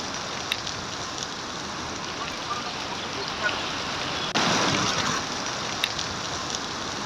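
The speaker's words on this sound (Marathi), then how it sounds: "नाशिकला सुद्धा मुसळधार पावसानं चांगलंच झोडपल्याचं पाहायला मिळतंय" Heavy rain pours down in Nashik, a dense steady hiss of falling water with a brief louder surge partway through, continuous and close.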